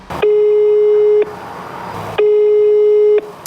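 A telephone busy signal sounds as two loud, steady one-second tones separated by a pause of about one second while a call goes unanswered.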